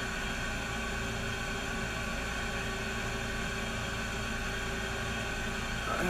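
Steady air conditioner noise fills an indoor room, a faint, even hum and hiss with a few tonal lines that holds unchanged throughout, with no talking.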